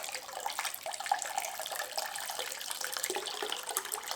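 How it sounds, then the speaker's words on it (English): Soft, faint trickling and dripping of a violet infusion straining through a jelly bag, continuous and close. "I'm straining through a jelly bag."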